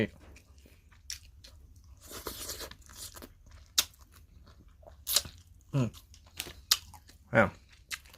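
A spicy canned-fish instant-noodle salad is eaten up close in several sharp, separate crunchy bites with quieter chewing between them, and a voice murmurs now and then.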